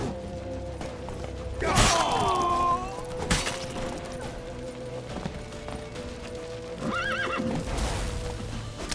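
A horse in The Witcher 3 neighs sharply twice amid galloping clip-clop hooves and clattering game action, the whinnies loud and close over a dense, hectic background.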